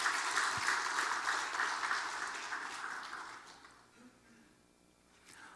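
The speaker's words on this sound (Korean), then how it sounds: "박수 한번 해주시죠" Congregation applause in a church during a Sunday worship service, following an oboe offertory performance: a dense, steady wash of clapping that gradually thins and fades to near quiet after about four seconds.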